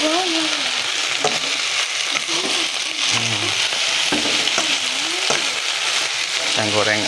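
Nasi goreng fries in a pan with a continuous loud sizzle, broken up by scraping stirs and clatter of a utensil, while a voice talks briefly over it.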